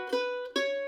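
A mandolin plays two bright plucked notes over a ringing high E drone string, clear and close with no other sound.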